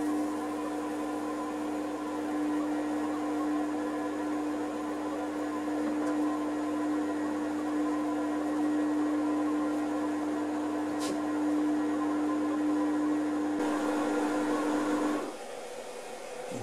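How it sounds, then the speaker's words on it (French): A Cecotec Mambo 12090 Habana kitchen robot chops and mixes at speed 2, giving a steady, even motor whir with a constant hum for about fifteen seconds before it stops abruptly. "en vitesse 2, il va en fait hacher et mélanger tout ce qu'il y a à l'intérieur pendant 1 minute"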